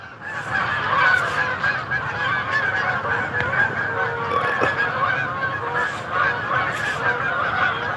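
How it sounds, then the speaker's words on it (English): Geese honk steadily from a group outdoors on a morning walk, many overlapping calls forming a constant busy chorus without speech. "I don't know if you can see and hear the geese."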